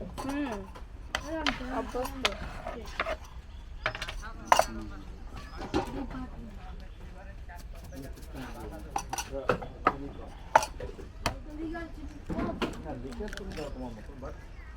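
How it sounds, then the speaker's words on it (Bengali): Knife taps and clinks of utensils on a board and dishes sound in quick, uneven bursts as ingredients are chopped for an egg omelette in a home kitchen, with people talking in Bengali nearby. "ডিম মামলেট করার প্রস্তুতি চলতেছে কুচি কুচি কুচি কুচি করে"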